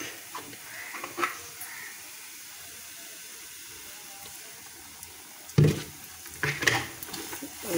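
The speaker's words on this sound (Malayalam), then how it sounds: "ഒരു ലേശം വെളിച്ചെണ്ണ കൂടെ അങ്ങനെ ഇതിനകത്ത് ഒന്ന് ഒഴിച്ചു കൊടുക്കാം" Dough cooks in a pan with a splash of coconut oil, giving a faint, low sizzle with occasional louder scraping and clattering knocks from stirring, mostly in the latter half.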